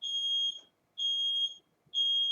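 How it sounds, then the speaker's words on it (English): Household smoke alarm chirping in three long, shrill, evenly spaced beeps, each about half a second, fairly close with quiet pauses between and no voices. "Smoke alarm."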